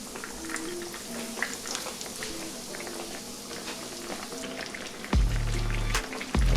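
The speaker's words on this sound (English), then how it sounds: "We gonna fry these up, y'all, until we get that beautiful golden brown color." Breaded eggplant slices bubble and crackle in 350-degree vegetable oil, a steady close frying patter with a few louder low thumps near the end.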